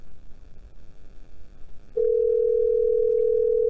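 A steady telephone dial tone cuts in abruptly partway through after a dropped call, holding loud and unbroken to the end after a stretch of quiet line noise.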